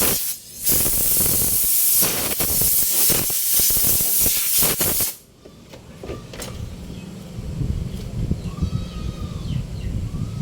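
Belt dressing spray blasts in a loud, continuous hiss with brief breaks for about five seconds, then gives way to quieter mechanical background noise.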